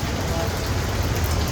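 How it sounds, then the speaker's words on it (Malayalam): Heavy rain pours steadily and densely on surfaces, a loud unbroken rush throughout. "നല്ല മഴ, ഹെവി മഴ, രക്ഷയില്ല."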